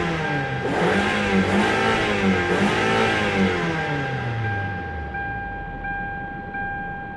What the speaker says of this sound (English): Runs great, idles nice and smooth, no check engine lights.